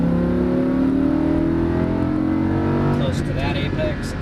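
A Lamborghini Huracan accelerates on a race track, its engine holding a loud, steady roar with rising tones heard from inside the car, and a voice speaks over it near the end.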